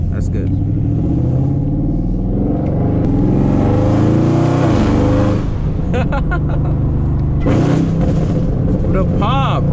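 A supercharged 800hp Camaro ZL1 engine revs hard while drifting, a loud continuous rumbling roar rising and falling, with people talking inside the car over it.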